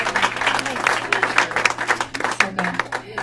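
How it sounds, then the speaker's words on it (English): An audience applauds for about three seconds, with a steady wash of many hands clapping at moderate loudness and some voices mixed underneath. "One more round of applause."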